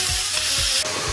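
Porcini mushrooms frying in a pan for a three-mushroom cream pasta, a brief dense hiss of close, steady sizzling with soft rhythmic stirring underneath.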